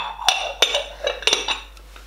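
Small red clay pots are handled, giving a handful of short, close clinks and knocks of pottery against pottery at an uneven pace.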